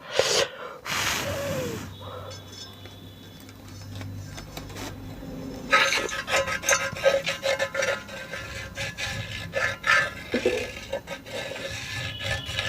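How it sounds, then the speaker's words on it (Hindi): A screwdriver rubs and presses against a loudspeaker part, producing close, uneven scraping and grinding strokes that come in irregular bursts after a quieter start. "इस स्क्रू ड्राइवर के सहायता से इसको हम रगड़ देंगे या प्रेशर से इसको हम घुमा देंगे"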